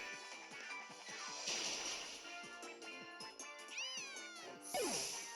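Cat-like meows from the Pokemon Moon video game, several rising and falling calls in quick succession over game music and crashing effects, fairly loud and up close.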